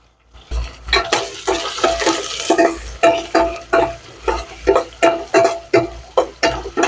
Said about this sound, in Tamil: இப்போ இதெல்லாம் முந்திரியை போட்டுக்கிறோம். முந்திரியை போட்டுட்டு கொஞ்சம் நல்லா சேவரட்டும்.